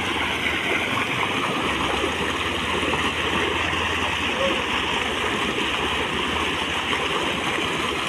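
Floodwater rushes steadily down beside a blocked road between Hailakandi and Silchar, a continuous broad churning wash that stays loud and unbroken throughout, with no clear talk over it.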